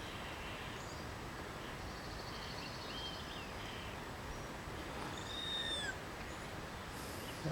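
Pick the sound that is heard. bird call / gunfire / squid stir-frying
bird call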